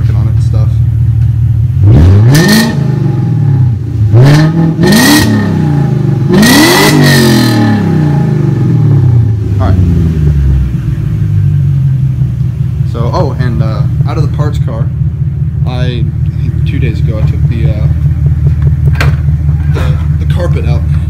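Exhaust note of a 2001 BMW 540i, its engine blipped in several sharp revs that rise and fall, then settling into a steady loud idle rumble, with someone talking over it near the end.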